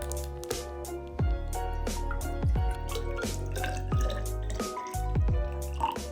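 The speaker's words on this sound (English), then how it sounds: "let's fill this guy up with water" Water poured into a graduated cylinder in a lab, with a steady run of close drips and splashy plops at irregular intervals over a low background hum.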